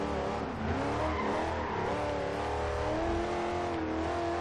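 A 2009 Chevrolet Corvette's engine revs hard and climbs toward redline in the Forza Horizon 2 racing game, a loud, steady V8 roar with rising pitch that fills the whole stretch with no talk over it.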